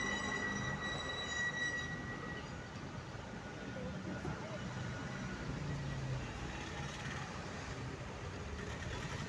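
A train from Badulla arriving at a Sri Lankan railway station: a steady, moderately distant rumble of rolling wagons with faint high wheel squeals, continuous throughout and without talk.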